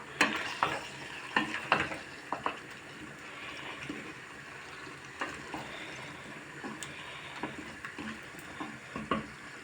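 Potatoes frying in a pan give a low, continuous sizzle, broken by repeated scraping and stirring knocks that come in short bursts; no one speaks.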